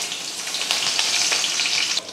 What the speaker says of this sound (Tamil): நான் வந்து நல்லெண்ணெயில் தான் தாளிக்கிறேன்